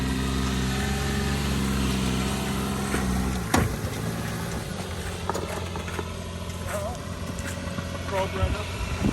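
A Mitsubishi 4x4 mini truck engine runs steadily close by, then lugs and strains as the truck pulls away from a dead stop in four-wheel drive, with a sharp knock partway through and voices talking over the drone.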